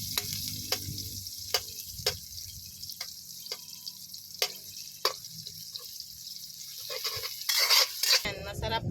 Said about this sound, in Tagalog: Gisa-gisa lang natin. Ayun na naman siya. Ulit. Gisa-gisa paminta lang guys.